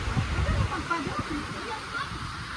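Heavy tropical rain pours down on Siargao island in the Philippines, a dense, steady rushing wash that fills the scene, with low rumbling swells and a faint voice underneath.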